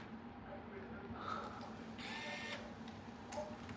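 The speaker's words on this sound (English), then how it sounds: "We're using our Finitech screwdriver." A Finitech electric screwdriver drives screws into an RC car chassis during an upgrade install, a steady close whirring motor hum with slight rises, running alone without talk.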